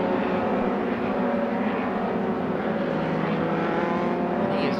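An MRF 2000 Formula race car running downhill on a race circuit, its engine a loud, steady, droning roar held close throughout.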